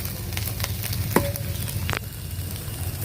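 Two eggs frying in oil with chili and onion over a wood fire, a continuous soft sizzle with scattered crackles and a few sharp pops and clinks.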